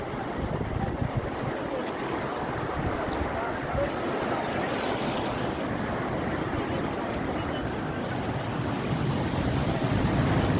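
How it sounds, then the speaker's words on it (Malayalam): Sea waves wash in on the shore in a continuous roaring surge, mixed with gusting wind buffeting the microphone, loud and close throughout, with a voice talking over it. "കണ്ടോ, തിരമാലകൾ അടിച്ചു പോയിരുന്നു"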